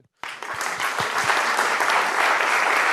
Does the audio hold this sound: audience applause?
yes